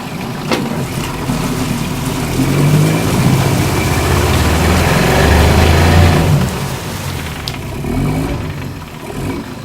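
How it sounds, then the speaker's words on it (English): A small Mercury outboard motor runs steadily and loudly throughout, its drone swelling a little as it is shifted, with water churning and splashing around it. "Little motor runs really good"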